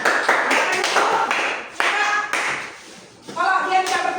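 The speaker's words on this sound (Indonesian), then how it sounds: "Tepuk tangan untuk kelompok ketiga." A classroom claps for the third group of students in a Christian religion lesson, with bursts of clapping coming in uneven waves and overlapping voices.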